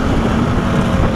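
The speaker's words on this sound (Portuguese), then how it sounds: "O escapamento dele tá parecendo de lata" A motorbike exhaust with a thin, tinny rasp drones continuously and loudly, mixed with wind buffeting the microphone.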